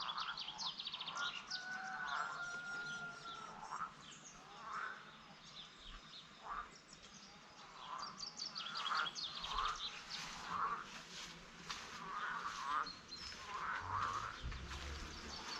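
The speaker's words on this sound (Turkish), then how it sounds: "Bu ötücü kuşlar inanılmazdır ki gece bile ötüyor." Songbirds singing at night in a village with fruit trees, faint scattered chirps and short warbling phrases repeating at a distance over a quiet, hissy background.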